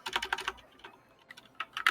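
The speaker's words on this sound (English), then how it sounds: "Keep making typing errors." A computer keyboard clatters with quick bursts of light key taps, close and moderately quiet, with a short pause in the middle before another flurry of keystrokes.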